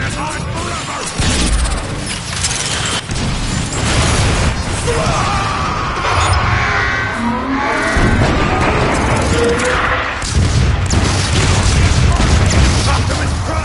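A loud grenade blast in Transformers: Fall of Cybertron, heavy booms and crashing debris within a constant roar of battle noise, with voices shouting over it.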